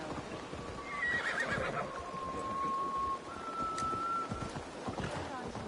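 A horse whinnies in the video game Assassin's Creed Valhalla, a long, high, wavering neigh over steady rain-like noise, with hoof clip-clops in the background and a faint voice.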